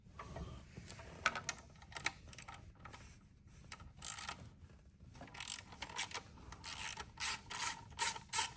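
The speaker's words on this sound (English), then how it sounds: "We're gonna remove these 2 bolts." A ratchet clicks in rapid bursts while removing bolts from a Suzuki DRZ motorbike, quiet and close, with short pauses between runs of ratcheting and no talking.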